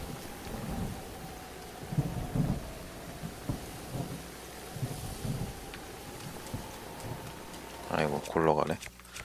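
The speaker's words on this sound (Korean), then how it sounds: "저기 번개 떨어졌나 봐요." Rolling thunder from a lightning strike during a storm in the video game Zelda: Breath of the Wild, a low rumble under rain and wind, with a voice talking over it.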